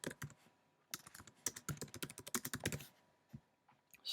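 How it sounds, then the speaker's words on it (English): Typing on a computer keyboard to enter a title while editing in iMovie, a quick, irregular run of close, crisp key taps that bunches into a dense flurry midway and then trails off to a few isolated clicks, quiet, no talk. "Double click, type in what I want to type in."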